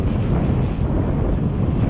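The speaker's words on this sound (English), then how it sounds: "It's a bit windy like" Wind blowing hard across a microphone on a waterside walk past apartment construction, a steady low rumble and buffeting that fills the whole moment with no talking.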